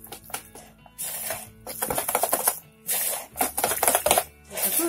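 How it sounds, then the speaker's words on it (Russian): Batter of zucchini and milk is stirred vigorously in a bowl, producing rapid clinking and scraping strokes in uneven bursts with short pauses, close and clear. "И тщательно размешиваем."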